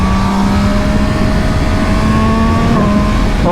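A loud MV Agusta Brutale Dragster 800 RR motorcycle engine drones steadily and climbs in pitch near the end, like a revving motor close by.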